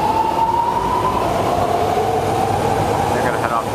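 A BART rapid transit train pulls out of a Bay Area station with a steady rumble and rising whine as it gathers speed, loud and close, ending with a faint wheel squeal.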